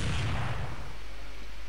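A single loud, booming gunshot from the Counter-Strike map de_tuscan during a competitive playoff match, with a heavy low burst that decays over about a second.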